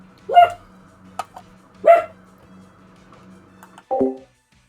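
A dog in a strategy game gives three short, sharp barks spaced about two seconds apart, the last one lower and more drawn out, against a quiet background with faint electronic tones.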